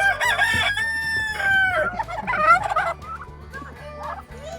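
Several turkey toms gobbling in a farm turkey coop, loud rippling calls repeating in bursts over about five seconds, close by, with no talking.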